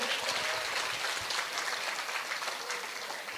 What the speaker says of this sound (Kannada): ಜೋರಾಗಿ ಚಪ್ಪಾಳೆ ಕೊಡಿ ಅಬ್ದುಲ್ ಕಲಾಂ ಅವರಿಗೆ